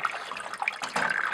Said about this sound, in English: the rocker arm, that is this device right here, gets water flowing alternately from one side to the other.